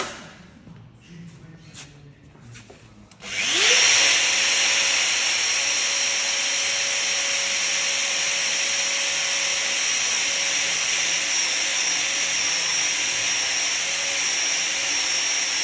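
A GBC boiler pipe bevelling machine starts up after a few quiet seconds of handling knocks, then runs a loud, steady high-pitched whine as it bevels a 4 mm wall pipe, continuous to the end.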